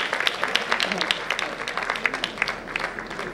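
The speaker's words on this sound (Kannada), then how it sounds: "ಜಗನ್ನಾಥ ದಾಸ ಜೋರಾದ ಚಪ್ಪಾಳೆ." Loud audience applause at a devotional song-release event led by a religious pontiff: dense, crackling crowd clapping throughout, with a voice speaking faintly underneath.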